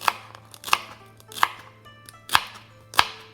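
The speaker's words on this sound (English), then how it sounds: "then just start slicing and dicing" A knife chops vegetables for Japanese fried rice on a cutting board, sharp separate strokes about every half second to three-quarters of a second, close and clear with no talking.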